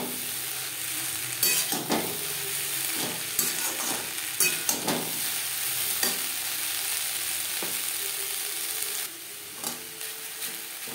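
Drumstick flowers and eggplant are stirred and fried in a pan, a steady sizzle broken by irregular scraping stirs, fairly close with no talking.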